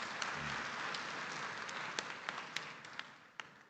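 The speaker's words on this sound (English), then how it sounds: "Round of applause again as he..." Audience at the Africa Water Investment Summit in Cape Town applauding, a faint, distant wash of clapping with a few sharper individual claps standing out near the end.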